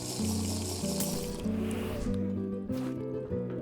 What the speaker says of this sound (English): Let us drink this potion